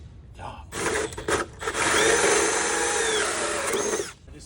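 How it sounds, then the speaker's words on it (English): A power drill whirs loudly in short bursts, then runs steadily for about two seconds while boring a wiring hole in a Peterbilt 589 truck panel before stopping. "you got to drill a hole right here for your wires."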